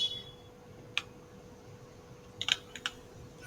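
Quiet keystrokes on a computer keyboard while a folder name is entered, a single click followed by a short cluster of taps a moment later, faint and close over a low steady hum.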